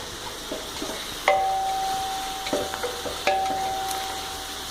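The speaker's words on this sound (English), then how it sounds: "pepper also whole pepper, anise and bay leaf. And that is just fried for some time" Whole cardamom, whole pepper, anise and bay leaf fry in oil for prawn biryani, a soft steady sizzle broken by a few metallic stirring clinks and taps, close by, with no talking.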